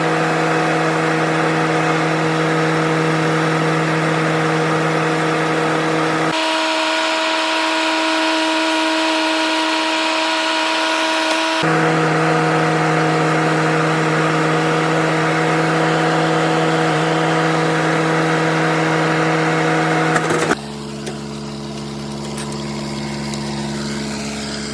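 A dump trailer raising its bed to unload boulders at a landscaping job site gives off a loud, steady engine and hydraulic drone with a tonal whine that shifts pitch a few times and changes abruptly near the end.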